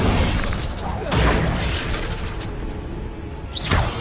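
A fire spell cast in the video game Hogwarts Legacy bursts out in a few loud whooshing blasts amid dense game effects, with a voice speaking over the action.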